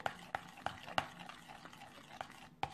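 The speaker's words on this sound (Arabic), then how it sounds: "وغادي نبقاو نخلطوا بهذا الشكل" A spoon works through a hair mask of yeast and olive oil, giving a series of soft, wet clicks and squelches at a roughly steady pace. The sound is close and quiet.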